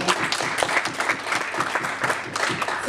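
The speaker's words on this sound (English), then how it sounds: "give yourselves a round of applause for that" A room of students applauds together, a loud, dense patter of clapping with a few sharper individual claps standing out, sustained for the whole stretch without voices.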